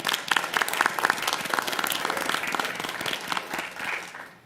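At a school board meeting, an audience gives students a round of applause: dense, continuous clapping from many hands that holds steady and then tapers near the end.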